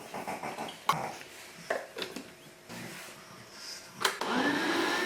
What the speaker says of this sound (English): Blend it well until it's very smooth.